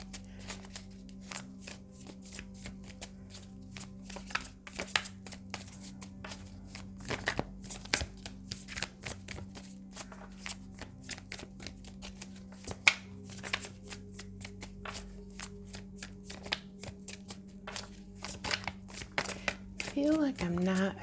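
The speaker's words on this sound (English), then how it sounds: "I feel like I'm not shuffling the cards right, and that's why they're not popping." Tarot cards being shuffled by hand, a steady run of quick papery riffles and slaps over about twenty seconds, with a faint low hum underneath and a person speaking softly at times.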